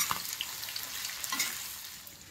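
Salted potatoes for sabudana khichdi fry in a pan over a medium gas flame with a steady, crackling sizzle, soft and close, with occasional louder pops and stirring scrapes.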